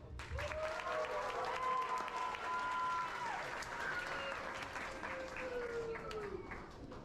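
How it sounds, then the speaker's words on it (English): Sustained audience applause at the Weeki Wachee mermaid show in a natural spring, steady and fairly loud clapping from a crowd throughout with some music-like tones in the background. "Let's set them off with another round of applause."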